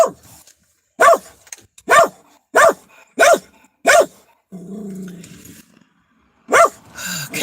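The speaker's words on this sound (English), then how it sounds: "My dog said something." A dog barks indoors in a run of six sharp, evenly spaced barks, then a brief low growl and pause before two more barks.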